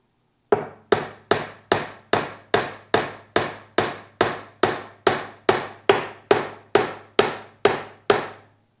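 A hammer drives nails into a wooden bird house with about sixteen sharp, evenly spaced knocks, close and crisp, each ringing briefly before the next blow.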